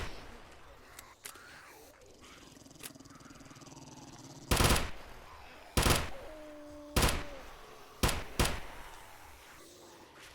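Automatic gunfire in the 7 Days to Die video game, heard as four loud, sharp broadband bursts from about four and a half seconds on, each with a ringing tail, after a quieter stretch of faint game ambience.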